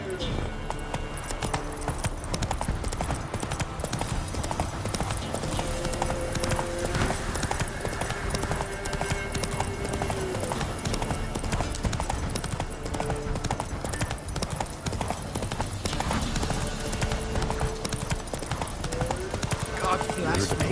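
Roach the horse from The Witcher 3 on PS5 trots with steady clip-clop hooves through the whole stretch, loud and continuous, layered under game music and someone talking.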